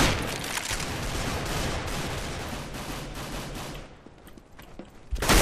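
Gunfire in Counter-Strike: Global Offensive, a dense rattling burst of rapid shots that runs for several seconds, drops to near silence, then returns with another loud burst at the end.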